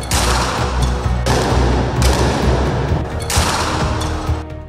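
Dense, sustained gunfire during a police crackdown on a student protest against government job quotas in Chattogram, Bangladesh, a loud continuous barrage with heavy low rumble and bursts that swell in waves.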